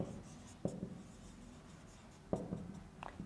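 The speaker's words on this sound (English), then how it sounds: "Let us write furthermore." Chalk or marker writing math on a board in a classroom, quiet scratchy strokes with a couple of sharper taps as it meets the surface, faint and close, with no talking.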